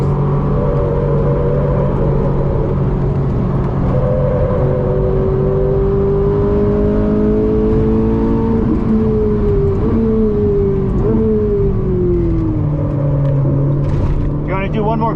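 A Ferrari 458 lapping Brainerd International Raceway gives a loud, continuous engine drone heard from inside the car. Its pitch climbs, drops and shifts in steps with gear changes throughout.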